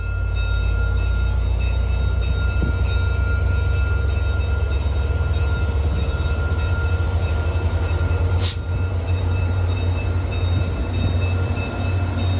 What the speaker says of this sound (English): the westbound Via Rail is the first to leave the station